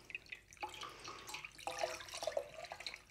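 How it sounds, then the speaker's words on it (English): Wet skeins of yarn dyed with dyer's mazegill fungus are lifted from a pan, letting scattered drips and small splashes of dye water fall back into it, close and quiet. "take all of the skeins out of the pan"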